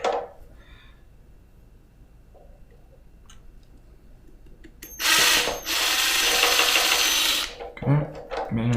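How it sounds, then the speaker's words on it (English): A hand tool boring out a hole in plastic, quiet scraping at first, then a loud sustained grinding burst for about two and a half seconds, followed by a few shorter scrapes. "Okay, managing to bore out a bit now. Just slowly sizing up."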